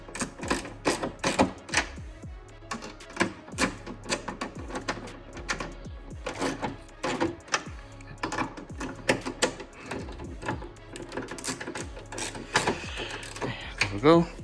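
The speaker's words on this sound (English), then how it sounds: "Take my socket wrench, and then just tighten everything up again until it's fully tight." A socket wrench ratchets bolts tight on an Audi A3 8V LED tail light. Loud, close clicking comes in quick uneven bursts with short pauses between strokes.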